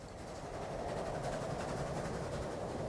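A loaded passenger train carrying workers rolls toward the port in Transport Fever 2, a steady rumbling rail clatter with rhythmic wheel clicks, moderately loud and continuous, no speech.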